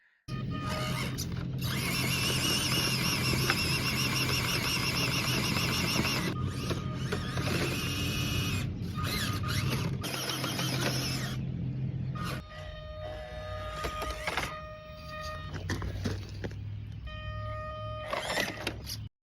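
A small FCX18 clone RC scale truck running on a course, its electric motor whining and servos buzzing continuously, with shifting high-pitched gear noise and brief pauses, fairly close and without any talk.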